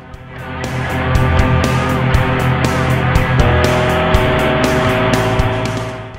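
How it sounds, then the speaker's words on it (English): A leaf blower pushes large piles of leaves across a yard toward the woods, its engine giving a loud, close, steady drone whose pitch shifts slightly as it works. "I'm taking my blower and blowing them back towards the woods."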